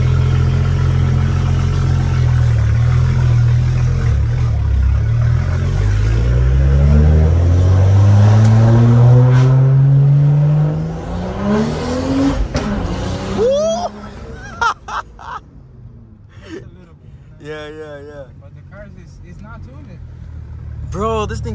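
A BMW M340i engine revs up, its pitch climbing steadily over about ten seconds before dropping off, followed by clatter and voices talking nearby.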